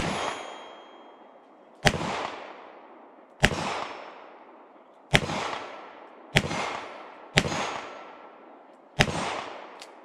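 Six sharp shots from an S&W 351 PD .22 Magnum revolver fired at steel plates, each a loud crack with a ringing metallic tail, spaced a second or two apart with no talking.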